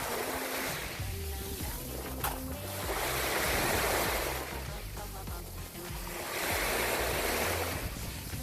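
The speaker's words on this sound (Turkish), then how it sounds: "sizi dalga sesleriyle baş başa bırakıyorum" Sea waves washing on a beach near Mazı village on the Bodrum coast, a steady broad surf roar swelling and easing as the waves come and go, with wind noise and no speech.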